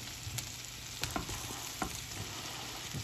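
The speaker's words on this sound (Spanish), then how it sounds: "Escuchen cómo chilla. Cómo chilla la carne." Meat sizzles quietly in a hot pan with a steady frying hiss, broken by a few light clinks and scrapes of stirring.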